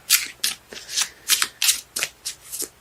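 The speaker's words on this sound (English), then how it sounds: "Cards let me know when they're done shuffling." Tarot cards shuffled by hand in a steady rhythm of crisp riffling bursts, about eight in quick succession, close and clear with no talk.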